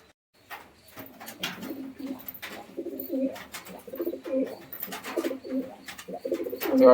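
A pair of Lalshira pigeons coo repeatedly at close range, low throaty calls growing louder and busier, with occasional rustles and clicks between them.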